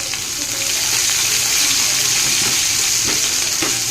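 Chopped large onions fry in hot oil with a loud, steady sizzle and crackle, occasional pops standing out close by.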